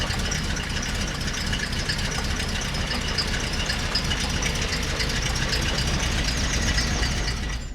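An old car's engine idles close by, a steady, even rumble that runs unbroken throughout with no voices.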